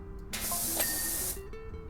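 A pressure washer sprays in the video game PowerWash Simulator, set on Mars, giving one short, steady hissing burst of about a second against quiet game background sound.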